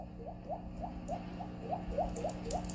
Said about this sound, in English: It is raining in here.